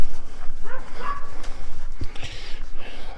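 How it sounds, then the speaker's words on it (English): Several dogs yip and bark excitedly in a workshop garage while a car is winched, short bursts scattered over steady background noise. "The dogs are excited."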